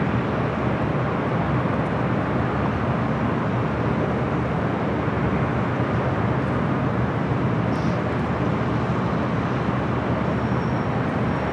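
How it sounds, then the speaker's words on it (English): An Alaska Airlines Boeing 737-900ER arriving at Los Angeles LAX gives off a continuous broad roar of jet engines, loud and steady throughout with no break. "Next arrival here on the north side coming in from Fort Lauderdale, Florida, Alaska Airlines Flight 936 to 737-900ER"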